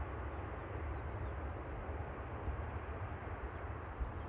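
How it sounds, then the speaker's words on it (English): An airliner landing at Amsterdam Schiphol roars with reverse thrust, a broad, steady low rumble heard from a distance across the airfield, continuous and fairly faint with no voices. "Application of the reverse thrust there."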